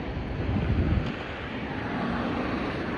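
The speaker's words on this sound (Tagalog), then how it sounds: "Sarap naman ng hangin." Steady wind rushes and buffets against the microphone beneath the Al Maktoum Bridge, a continuous broad roar with faint water-like wash underneath and no talking.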